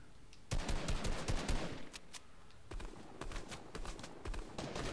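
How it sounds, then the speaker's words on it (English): Rapid bursts of gunfire from the video game Fortnite crackle in quick volleys, moderately loud, then continue in scattered shots over a few seconds. "I'm getting shot at."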